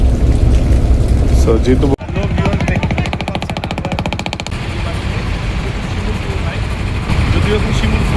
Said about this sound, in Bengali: ঘুম থেকে উঠেই দেখছি যে আমাদের বোট চলছে।